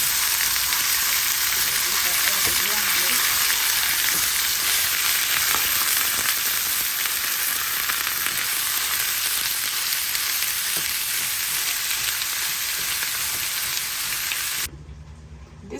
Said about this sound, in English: right now I'm just going to be adding all the ground meat